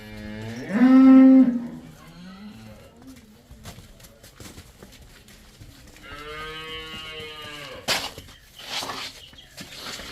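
Cattle at a farm, including a Jersey calf, let out two loud drawn-out moos, the first early and the second a few seconds later, with quieter farm noise and some nearby talking in between.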